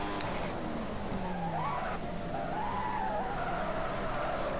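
Tyres lock and skid under hard braking in the F1 2015 racing game, a wavering squeal riding over a steady engine drone for several seconds, with no talking.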